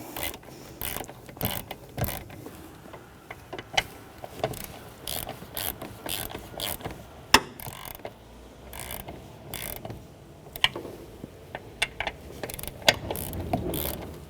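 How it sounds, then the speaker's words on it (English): A hand ratchet with a 13 mm socket tightens the master cylinder mounting bolts on a 2007-2017 Jeep Patriot, giving quick bursts of close, crisp clicking that stop and start again several times. "Now I'm going to go back and forth and alter the tightening on this because I don't want to make it seat crooked"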